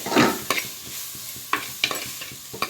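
Onions fry in oil in a pan for a Tulu-style chicken puli munchi, a close, continuous sizzle broken by several sharp spatula scrapes and taps as they are stirred.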